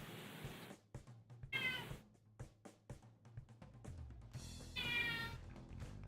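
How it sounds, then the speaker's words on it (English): Pet cats meowing indoors, several loud, rising yowls in separate bursts with quieter chirps and meows between them, close to the listener. "my kitties are yelling"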